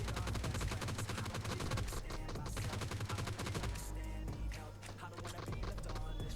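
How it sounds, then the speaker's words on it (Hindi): Rapid bursts of automatic gunfire from a boat in PUBG Mobile, loud and continuous with dense repeated shots and a steady low rumble, no talk over it. "उतने में यहाँ पे बोट फायर होती है"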